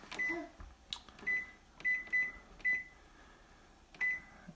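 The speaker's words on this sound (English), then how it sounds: "Now we're gonna set the timer for 30 minutes." A kitchen oven or microwave timer gives a series of short, high electronic beeps as buttons are pressed, about seven separate chirps spaced unevenly over a few seconds, close and clear against a quiet background.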